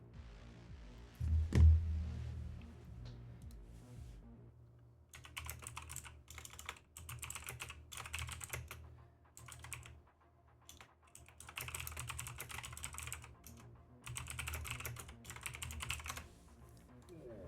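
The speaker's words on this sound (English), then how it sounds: "Just typing in chat, letting them know it's 15 minutes delayed" Computer keyboard typing in quiet, irregular bursts of rapid keystrokes with short pauses between, close to the microphone, while typing a chat message during a Star Wars game session.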